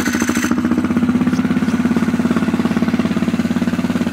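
A Honda 400EX ATV single-cylinder engine, buried in snow, chugs at idle with a rapid, even pulsing beat, loud and close throughout.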